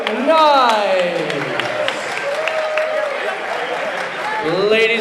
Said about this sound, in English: one more round of applause for your National Squash League champions, the New York Knights